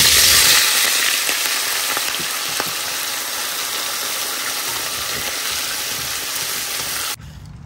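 Pointed gourd and potatoes fry in hot oil, a dense steady sizzle that fades slightly before cutting off abruptly near the end.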